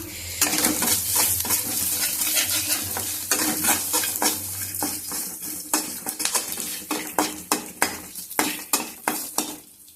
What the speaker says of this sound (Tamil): இப்போ நம்ம எடுத்து வச்சிருக்க பூண்டை நல்லா செவந்து வர அளவுக்கு வறுத்து எடுத்துக்கலாம்